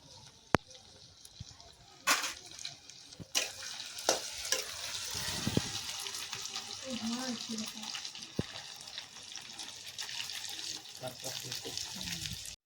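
Pieces of taro fry in a pan with a continuous close sizzle, punctuated by sharp clinks and scraping knocks of utensils, and a voice speaks briefly partway through.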